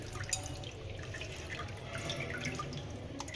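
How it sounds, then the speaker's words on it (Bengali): Water drips and trickles steadily as freshly washed Malabar spinach drains in a basket, a soft continuous splashing with scattered drops close by. "খুব ভালো করে পুঁই শাক ভালোভাবে ধুয়ে ঝুড়ির মধ্যে তুলে নিচ্ছি"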